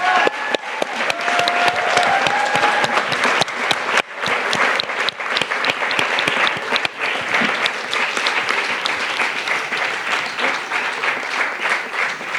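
Cinema audience applauding at the premiere of a Slovenian film, a dense, steady wash of clapping that runs unbroken for the full length, close and loud with a few brief dips in intensity.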